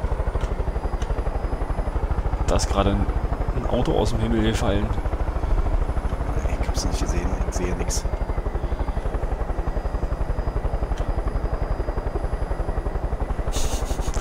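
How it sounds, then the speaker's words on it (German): A steady helicopter rotor in Far Cry 5 thrums loudly and continuously throughout, with two people talking over it. "Ist das ein Hubschrauber?"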